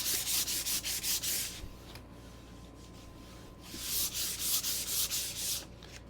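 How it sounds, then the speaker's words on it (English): Wood is hand-sanded with 150 grit sandpaper on an old base in rhythmic back-and-forth rasping strokes, two bursts of quick scrubbing separated by a quieter pause, close and fairly soft. "I'm going to go ahead and put a little bit more smooth sanding on here."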